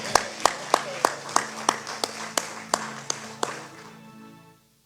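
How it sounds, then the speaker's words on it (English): A church congregation claps in about a dozen slow, evenly spaced, sharp beats that weaken and stop, leaving near silence at the end. "I think she deserves a better round of applause than that."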